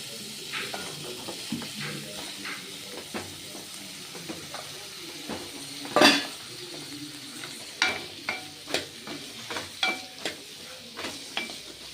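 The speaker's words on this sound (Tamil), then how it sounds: "இப்போது இந்த முள்ளங்கியும் போட்டு நல்லா தொலாவி விடுங்க" Radish pieces stirred into a pan with onion and curry leaves, cooking for sambar: soft scraping stirs and light sizzling, with irregular close clicks and taps of the spoon against the pan throughout.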